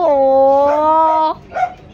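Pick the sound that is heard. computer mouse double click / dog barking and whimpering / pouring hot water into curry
dog barking and whimpering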